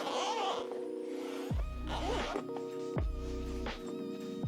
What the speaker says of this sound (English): The way they designed the zipper is really nice as well.